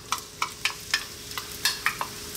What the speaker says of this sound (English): our onions into that little bit there of olive oil